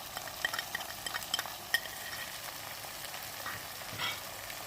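Minced beef qeema fries in a pan with a soft, steady sizzle while a spoon or spatula stirs it, producing light scraping and clinking strokes at an irregular pace, close and fairly quiet.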